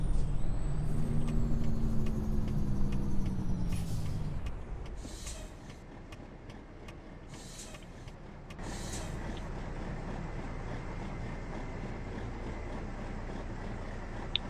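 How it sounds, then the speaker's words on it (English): Kenworth W900 tri-drive truck in a game, its Jake brake rattling loudly for about four seconds before fading into a quieter idle, with a few brief hissing bursts and a steady hum after. "Jake brake."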